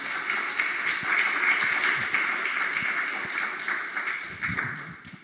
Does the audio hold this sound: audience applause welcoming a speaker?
yes